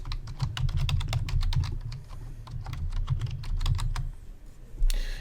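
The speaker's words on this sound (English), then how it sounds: "then I'm going to type in Pete's email address." Quick keystrokes on a computer keyboard as an email address is typed, a steady run of close, crisp clicks over a low hum, ending with a brighter tap near the end.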